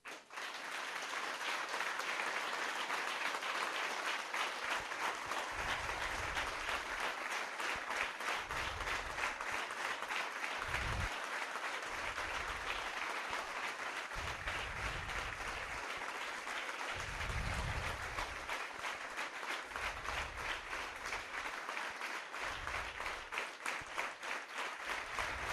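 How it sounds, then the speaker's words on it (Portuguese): Church congregation applauding at length, a long continuous patter of many hands, fairly soft and steady with occasional low rumbles underneath. "gostaria que você ia dar aplauso para ele,"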